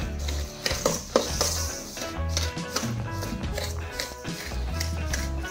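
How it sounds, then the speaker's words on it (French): Softened butter, brown sugar and honey being mixed by hand for cookies, with steady tapping, scraping and clicking of a utensil against a bowl in an irregular rhythm, close up, over a low background hum. "tu mélanges bien, que toute la cassonade soit bien répartie dans le beurre"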